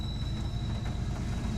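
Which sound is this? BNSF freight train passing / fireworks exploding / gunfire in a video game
BNSF freight train passing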